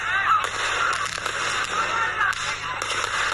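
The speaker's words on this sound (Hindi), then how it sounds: "कई तो पटाखे और अनार ऊपर जाकर कई सारी आकृतियाँ भी बना देते हैं।" Diwali firecrackers and fireworks crackle and pop in a dense, continuous spray of bursts with faint whistles, distant and busy, with a crowd murmuring underneath.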